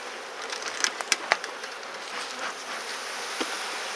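A diffuse buzz of honeybees around hive frames being pried loose, steady and close, with a few sharp clicks and knocks early on.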